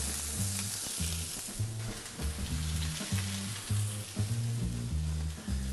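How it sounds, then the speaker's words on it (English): Leeks frying in canola oil in a hot pan, a bright, steady hiss with irregular pops and stirring bumps, close and continuous with no speech. "Some canola oil on a nice hot pan."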